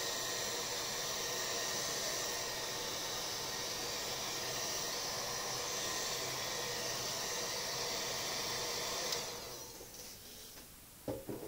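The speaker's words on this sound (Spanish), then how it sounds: "No es un secador de pelo, es una pistola de aire caliente" Steady, loud rushing hiss of a heat gun blowing hot air over a watercolour painting of Honfleur harbour, holding constant for about nine seconds before cutting off, followed by a few small clicks and knocks.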